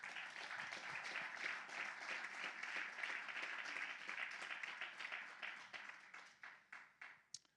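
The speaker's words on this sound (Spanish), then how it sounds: "Un aplauso al Señor fuerte." A church congregation claps loudly and steadily for several seconds during a worship service, the dense applause gradually thinning into scattered individual claps before fading out.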